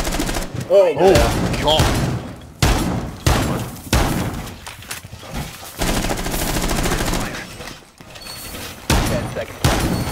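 Rapid gunfire bursts and thuds from Rainbow Six Siege gameplay on the House map, loud and repeated, with players talking and exclaiming over the shooting.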